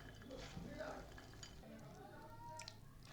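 Potatoes being mixed by hand with spices and a spoon of mustard oil for aloo kabli, a soft, close, continuous squishing and stirring with faint clinks of a bowl.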